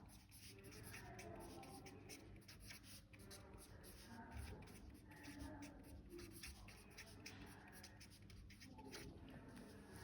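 Pen or marker writing a maths problem by hand, soft close scratching strokes in short bursts and pauses, faint and steady, with a little background room noise.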